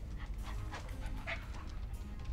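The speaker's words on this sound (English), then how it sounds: "Did you bring a dog in here?" Franklin the dog in Tales of Monkey Island barks in quick yips and pants continuously, close and loud, over a constant low game-background hum.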